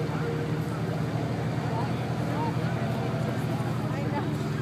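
A pulling tractor's engine at the Six Nations Autumn Fair tractor pull drones steadily and loudly for the whole stretch, a dense continuous rumble with crowd noise underneath.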